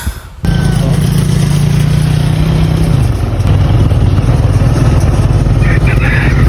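A single-cylinder motorcycle rides along a narrow road, its engine droning loudly and steadily close by throughout with a slight shift in pitch partway through.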